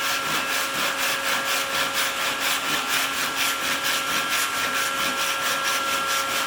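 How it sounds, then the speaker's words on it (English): A hand saw cuts the rebate of a school-project wooden box in steady, even back-and-forth strokes, each pass rasping close and clear through the wood with no talk over it. "Sawing down my line."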